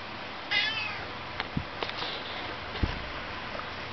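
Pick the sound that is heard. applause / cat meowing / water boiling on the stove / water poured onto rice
cat meowing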